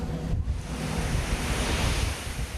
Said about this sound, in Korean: 파도가 칠 때마다 바닷물이 폭포수처럼 쏟아진다.